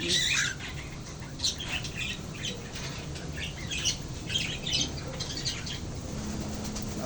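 Pet parakeets flapping their wings in a burst near the start, then chirping in short bursts throughout over a steady low background hum.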